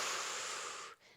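A single steady exhale during a resistance band posture exercise, a soft breathy rush lasting about a second that fades off at the end, close and alone.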